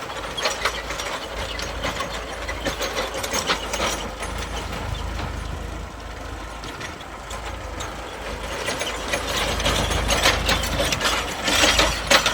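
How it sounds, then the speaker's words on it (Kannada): A New Holland 42 HP tractor drives along pulling a rotavator, its steady engine drone mixed with a dense rattling, clattering churn of the tilling blades that stays loud and continuous throughout. "ಒಳ್ಳೆ ಸ್ಪೀಡಲ್ಲಿ ಹೋಗುತ್ತೆ ರೋಟಾವೇಟರ್"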